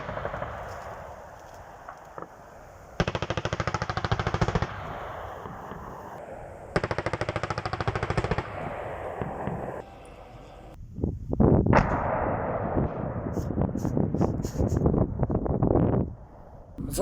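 Automatic gunfire from a battalion tactical live-fire exercise by Abkhazian armed forces, with sustained bursts and rapid shots at mid distance, heard outdoors with wind noise on the microphone.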